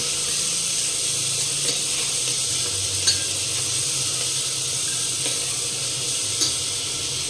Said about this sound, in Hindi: बचे हुए प्याज को भी डाल देते हैं और इसको भून लेते हैं।